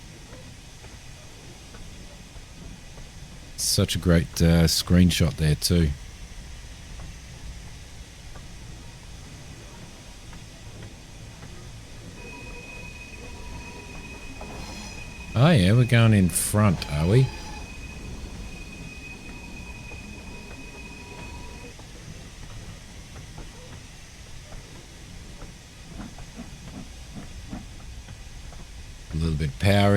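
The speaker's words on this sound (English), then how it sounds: "I love steam trains." A steam train in the video game Train Sim World 3 rumbles steadily in the background while a long, thin whistle-like tone sounds midway; two short bursts of talking break in over it.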